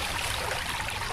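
Stream water pours into a bottle outdoors, a brief, steady rushing trickle, close and fairly quiet, with no talk.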